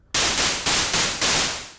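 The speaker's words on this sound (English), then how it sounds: "So we're going to pick white noise for oscillator 1." White noise from the first oscillator of a DSI Pro 2 analog synthesizer, a loud broadband hiss rising in four swelling bursts that each fade slightly, played alone with no voices.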